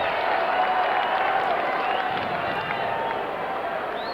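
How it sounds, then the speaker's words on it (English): A soccer stadium crowd at a Rochester Lancers versus Vancouver Whitecaps match roars with excitement during a throw-in, a steady, loud wash of cheering with some clapping. "Crowd gets excited."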